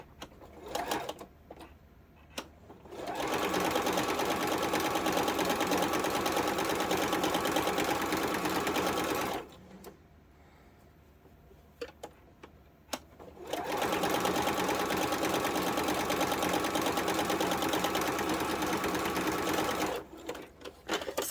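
A sewing machine runs a quarter-inch seam on a quilt block in two steady, continuous bursts of rapid stitching, each several seconds long and separated by a quiet pause with light handling clicks.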